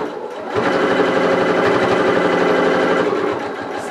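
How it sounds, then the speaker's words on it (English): A sewing machine stitches steadily across the tummy seams of a fabric Humphrey toy, with a fast, even needle rhythm. It starts after a short pause and runs loud and close until near the end. "So I'm sewing across the front of his tummy, making sure that those seams line up again."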